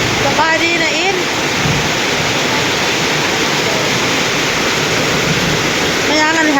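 Very heavy rain pouring down in a steady dense hiss, loud and close, with brief voices near the start and end.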